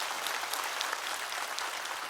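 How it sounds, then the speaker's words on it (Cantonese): Applause at a church small-group leader ordination ceremony, dense steady clapping from a gathered congregation lasting a couple of seconds, moderately distant. "俾啲掌聲大家好唔好"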